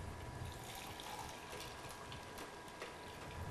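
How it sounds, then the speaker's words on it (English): Hot water poured over loose-leaf pumpkin spice brulee tea, a steady, soft gushing stream filling a cup, continuous and close for a few seconds with no talking. "So you just pour the water right over here."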